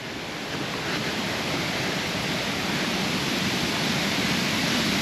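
Waterfalls at Janjske Otoke near Šipovo pour in a steady, broadband roar of rushing water, constant and close throughout with no voices.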